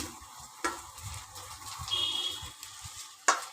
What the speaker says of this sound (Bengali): লঙ্কাগুলোকে আমি একটুখানি ফাটিয়ে দিচ্ছি